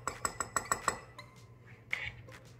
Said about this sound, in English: Don't forget to stir it all up after you put all your ingredients in.